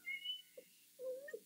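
A house cat meows twice: a short high cry, then a longer drawn-out meow about a second later, close and clear against a quiet room.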